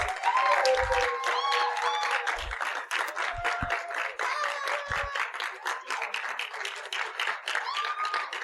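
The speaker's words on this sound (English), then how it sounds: "A resounding sound of applause." An audience gives a standing ovation, steady applause running throughout with scattered shouts and whistles above it.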